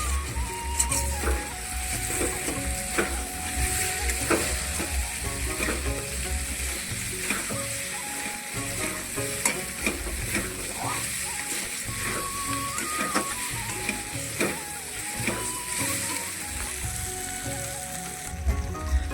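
Chicken cooks down in a pan for Bengali chicken kosha, a loud continuous sizzle with frequent spatters and scraping stirs throughout, close and busy.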